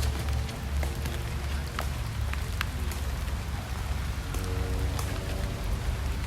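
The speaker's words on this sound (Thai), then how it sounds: "ฝนตกครับ" Steady rain pours over an outdoor sepak takraw match, a dense, even hiss with scattered sharper drop impacts and a low rumble beneath, continuous throughout.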